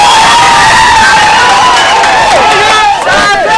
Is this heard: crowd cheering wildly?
yes